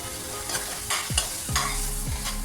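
Tomato and green chili masala cooking in a pan, a steady low sizzle broken by several scraping strokes of a spoon stirring the thick mixture.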